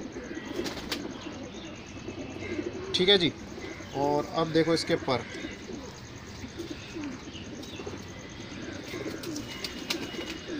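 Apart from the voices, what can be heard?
old racing pigeon cooing while being shown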